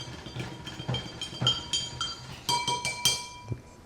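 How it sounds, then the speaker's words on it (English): A spoon stirs blackcurrant drink in a mug, clinking against the sides in quick, irregular bright taps that grow busier toward the end, close by with no talk. "Stir it up."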